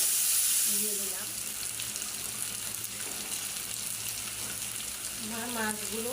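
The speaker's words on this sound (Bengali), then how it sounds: "আমার মাছগুলো প্রায় ভাজা শেষ।" Fish pieces fry in a spiced pan with a continuous crackling sizzle, close by and steady, while a voice speaks briefly now and then.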